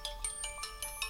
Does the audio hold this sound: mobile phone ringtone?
yes